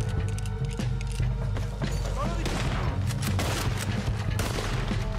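Gunfire in Red Dead Redemption 2 during a fight on Guarma, repeated sharp shots over dense game noise and music, loud and continuous.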